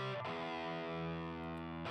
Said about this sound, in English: it's pretty distorted, but it's not too, you know, it's not overly so.